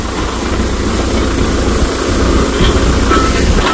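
A tractor engine runs close by in a village field, a loud, continuous low-pitched rumble and drone with a rough, steady texture and no pauses.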